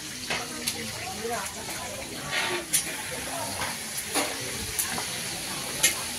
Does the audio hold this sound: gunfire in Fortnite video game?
no